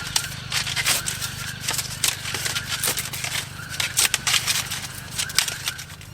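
Dead leaves pulled and snipped from a yucca plant make a dense run of dry crackling, rustling and scraping bursts close by, continuing steadily with a low hum underneath.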